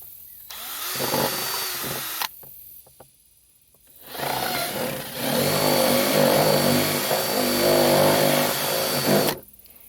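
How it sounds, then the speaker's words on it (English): A power drill whines steadily, stopping briefly before starting again, loud and close, with some scraping as it bites into material while drilling a hole for a garden water feature. "I'm going to drill a hole like right here"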